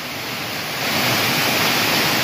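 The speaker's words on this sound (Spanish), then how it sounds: "Miren qué cascada más bonita." Waterfall at Cerro La Culebra, with a steady broadband rush of falling water that swells slightly after the first second and then holds loud and constant, close by, with no voices.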